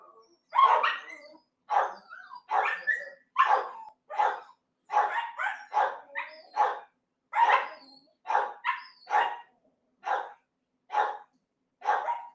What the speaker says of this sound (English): These are the dogs just freaking out, guys.